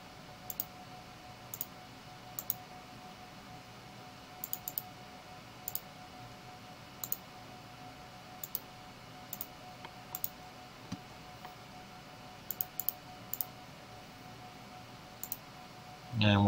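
Mouse clicks while working in PowerPoint: a string of faint, crisp single and double clicks at irregular intervals over a quiet room hum.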